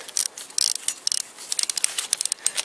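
Ratchet wrench tightening flywheel bolts on a Toyota VVT-i engine, a series of quick metallic clicking bursts in short irregular runs, close and fairly quiet, with no talking.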